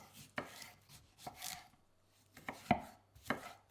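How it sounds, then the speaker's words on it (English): Knife chopping a cucumber into thin strips on a cutting board while sushi rolls are made at home: a few sharp, separate cuts spread across the moment, close and fairly quiet, with no talking. "The cucumber should be cut into thin strips."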